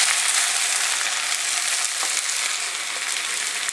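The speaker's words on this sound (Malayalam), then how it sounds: "ഒന്ന് ആ എണ്ണയിൽ കിടന്നിട്ട് എല്ലാം കൂടെ ഒന്ന് നന്നായിട്ടൊന്ന് മൊരിയട്ടെ." Beef and onions for a Kerala beef roast fry in oil with a dense, loud, unbroken sizzle that stays level throughout, no voices present.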